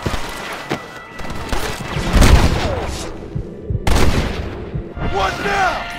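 Gunfire in the western video game Red Dead Redemption, a loud fusillade of overlapping shots and booms in a running battle between rebels and army men, with game voices shouting over it.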